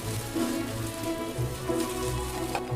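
Rustic Chinese fried chilies sizzle steadily in a pan over low heat, a dense continuous crackle and hiss close to the microphone with no talking.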